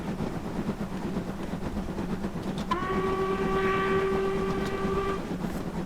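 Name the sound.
train on the Stainmore line in the video game Train Simulator 2020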